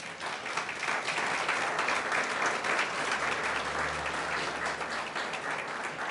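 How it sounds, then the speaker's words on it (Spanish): A church congregation applauds the Lord together, dense continuous clapping from many hands filling the room, loud and sustained for several seconds with no talking. "denle un aplauso al Señor"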